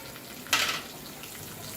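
A handful of fresh curry leaves drop into hot oil already holding cumin, asafoetida and white sesame seeds for a spicy khichu, giving one sudden loud sizzling burst that quickly settles into a softer, steady crackle, with no talking.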